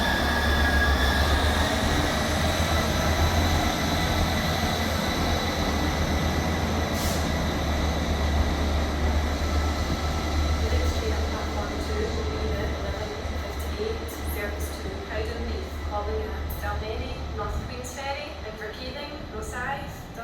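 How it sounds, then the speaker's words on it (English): A three-carriage ScotRail 158 diesel unit pulls out of Edinburgh Gateway toward Edinburgh Waverley, a steady, loud engine drone and rolling rail noise that slowly fades as it departs, with someone talking over it. "Departing out now is the 1151 Scotrail service from Leven to Edinburgh Waverley."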